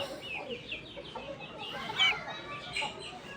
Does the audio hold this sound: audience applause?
no